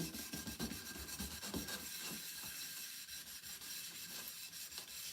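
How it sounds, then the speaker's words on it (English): A wet green Scotch scouring pad is worked hard across a pot caked with food left for a couple of days, giving steady close rasping strokes with a rough, rubbing texture and no talking. "scour the pot. And I'm going to use a little bit of elbow grease"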